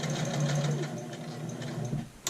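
A sewing machine stitches a dart in a skirt, running steadily at close range with a fast, even whir that slows briefly near the end.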